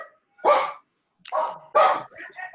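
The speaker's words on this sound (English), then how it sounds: "Whoever has a dog, if you can mute yourself real quick" A dog barks in a participant's background during an online class, sounding as three or four sharp, loud barks in irregular bursts with brief gaps between them.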